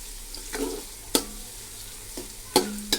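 Onions frying in oil in a pot for chicken biryani, a soft steady sizzle broken by a few sharp stirring clinks and scrapes, close and fairly quiet with no talk.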